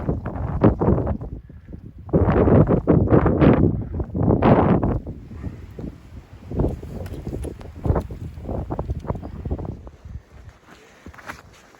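Strong gusty wind on an exposed winter mountaintop in the Grayson Highlands buffets the microphone with loud rushing bursts, then settles into a steady roaring hiss with occasional thumps.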